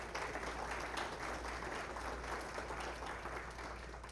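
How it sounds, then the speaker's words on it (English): Audience applause at a State of the College address at NEO A&M College, a steady, fairly faint wash of clapping from a crowd lasting throughout without pause. "Absolutely. Round of applause."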